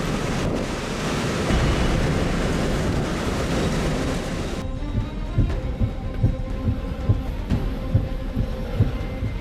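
Typhoon Hato's gales and waves in Hong Kong make a loud, continuous roar of wind buffeting the microphone, with heavy surf breaking and thudding in a rough rhythm during the second half.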